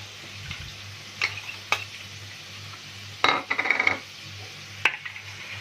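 Soy sauce and sugar being stirred and fried in a pan: scattered scraping clicks of a utensil against the pan over a steady low hum, with a denser burst of stirring and sizzling partway through.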